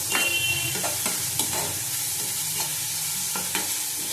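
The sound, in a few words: onions frying and being stirred in a pan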